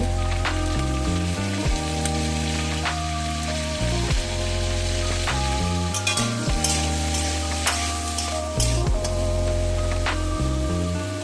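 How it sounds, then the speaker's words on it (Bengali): Continuous sizzling of cauliflower frying in a pan, with repeated scraping and stirring clatter over a steady low hum. "ফুলকপিটাকে ভেজে নেব"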